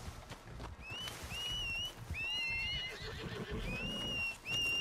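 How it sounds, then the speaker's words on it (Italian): A horse in Red Dead Redemption 2 Online whinnies in several repeated high, wavering neighs over about five seconds, close and clear above a low rumbling game background with some hoof movement. "Il mio cavallo dove sta?"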